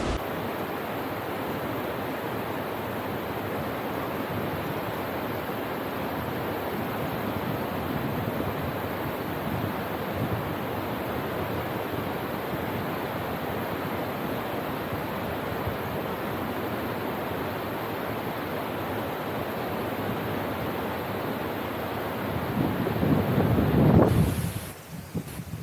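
Rio Valgrande flowing over rocks in a wild, isolated river bed, a steady broadband rush of water that holds constant and close throughout, with a brief louder burst of splashing or wind buffeting near the end.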